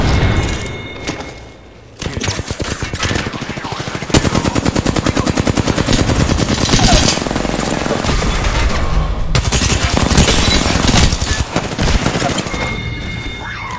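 Rapid automatic gunfire in a video game shooter, long sustained bursts of fast, loud shots with thuds and booms mixed in, pausing briefly near the start and then continuing almost without break.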